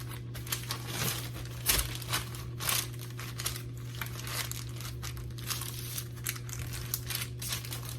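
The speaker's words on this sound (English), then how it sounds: "Place your dough in the bag." A plastic bag crinkles and rustles close by as a disc of sugar cookie dough is slipped inside, the handling noise continuing over a steady low hum.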